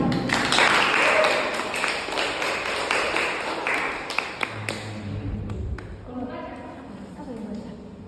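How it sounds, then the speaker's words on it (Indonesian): A class of students claps together in a burst of loud, fast, scattered applause that fades over a few seconds, followed by talk. "Tepuk tangan ya."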